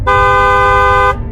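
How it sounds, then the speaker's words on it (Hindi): A cartoon bus horn gives one loud, sustained honk with a bright tonal blare that cuts off sharply after about a second, over a low rumbling background. "तभी बस वाले अपने बस का हॉर्न बजाता है"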